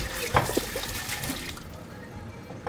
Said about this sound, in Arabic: تعالوا بقى نغسل كمان البرتقال